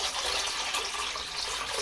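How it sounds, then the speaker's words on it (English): Cold water is poured into a container to top up a batch of elderflower champagne, making a steady, fairly loud gushing rush that runs without a break and has no talk over it. "we're going to put 8 litres of cold water"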